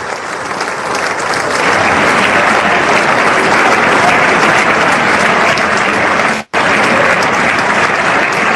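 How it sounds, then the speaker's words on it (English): A large audience applauds at a State of the Union address, sustained loud clapping that swells after the first second and continues densely, with a sharp momentary cut partway through. "enough with the clapping"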